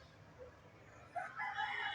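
A chicken's rooster crows nearby on a small farm being fed hydroponic grass, the call rising in the second half over a quiet background.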